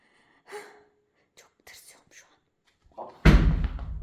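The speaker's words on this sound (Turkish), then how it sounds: "o bir daha vursa kapı sökülür" Heavy pounding on a door at night, a loud burst of thuds near the end that follows quiet whispering and gasps.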